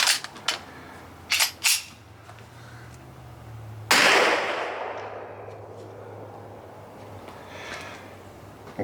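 A single loud pistol shot from a Smith & Wesson M&P 2.0 Metal rings out sharply and decays, preceded by a few small mechanical clicks and knocks.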